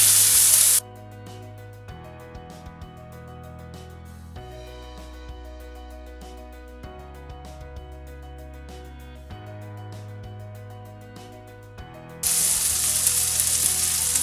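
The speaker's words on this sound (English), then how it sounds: "Now we'll add chopped tomatoes into it. And we'll fry it until they become mashy." Chopped tomatoes fry in a pan, a continuous soft sizzle under a background music bed, with louder hissing bursts at the start and end.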